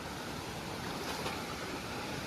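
Continuous rushing water of a fast-flowing, deep river roars steadily, a dense broad wash of flow with no pauses and no voices.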